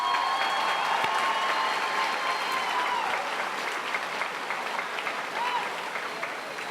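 Sustained crowd applause at a high school commencement, many hands clapping in a dense wash with a faint whistle or cheer riding on top, gradually easing slightly toward the end.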